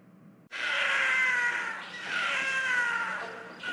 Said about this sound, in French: On dirait des chats qui se battent dans le plafond.